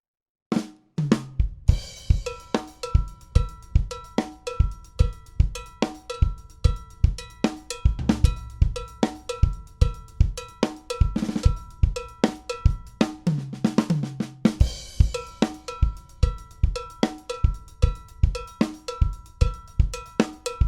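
A drum kit plays a steady groove in 3/4 with a bright cowbell clanking on the beat, snare and kick hits underneath, and occasional busier fills, all loud, close and continuous.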